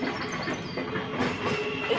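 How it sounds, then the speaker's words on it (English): A train passing close by, a continuous rumbling roar with rattling wheels and a faint high squeal across the whole span. "hang on, I'll wait for the train to go."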